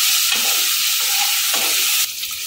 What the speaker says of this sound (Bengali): নেড়ে চেড়ে হালকা করে ভেজে তুলে নেব